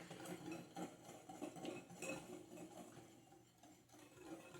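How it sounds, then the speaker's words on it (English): Dry baked-donut ingredients with cinnamon and nutmeg being whisked together in a bowl, a busy run of light clinks and scraping strokes at close range, fairly quiet and continuous with no talking. "And you're just gonna whisk that all together."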